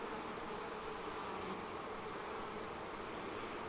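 Honey bees buzz in a steady, close drone around a hive that has just been moved in a fall bee yard, with no voices over the hum.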